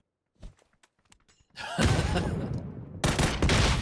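Gunfire from the video game PUBG: a few scattered sharp shots and thuds, then a loud sustained burst of fire and an explosive RPG hit, with heavy dense firing continuing to the end.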